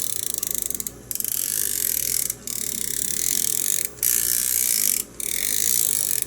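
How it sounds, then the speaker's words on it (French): A ratchet wrench clicks as it turns a socket. Bursts of rapid, crisp ratcheting come at close range, split by brief pauses between about five strokes, with no talking. "Lorsqu'on revient dans le cliquet, la douille, même si elle va tourner moins vite, va continuer de tourner"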